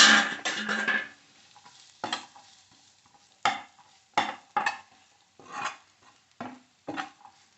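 Chopped onions and green chillies get stirred in a pan in bursts of scraping and light sizzle, each stroke separated by near silence, with a louder stretch at the start.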